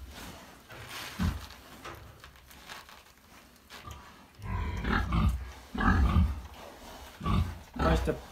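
Sow grunting during artificial insemination, with a person sitting on her back: low, close grunts that grow louder in bursts in the second half, mixed with nearby talk.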